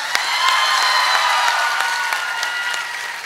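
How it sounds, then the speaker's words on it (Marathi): Loud audience applause for Dole sir at a Marathi public speech, dense sustained clapping from a large crowd with a few sharper individual claps standing out, continuing without speech. "ते सन्माननीय डोळे सर यांच्यासाठी एकदा जोरदार टाळ्या होऊ द्या"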